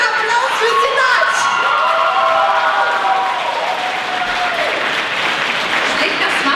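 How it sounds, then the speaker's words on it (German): Audience at a festival stage show bursts into loud, sustained applause with cheering and shouts, a dense wash of clapping that holds steady throughout with voices rising over it. "Ein riesiger Applaus für Sinat."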